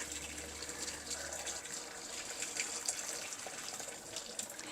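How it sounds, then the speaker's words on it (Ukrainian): Boiling water from a kettle pours steadily into a kitchen sink drain, a continuous, moderately quiet gushing and splashing that lasts throughout without pause. "І тепер легесенько знову л'ємо кипяточок. Вже до кінця виливаємо ось цей чайничок."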